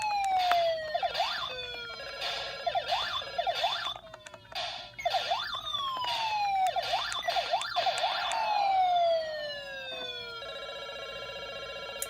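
Galaxian arcade game sound effects from a My Arcade unit: repeated swooping electronic tones and chirps in rapid bursts, looping rhythmically and fairly loud, ending in a steady high hum.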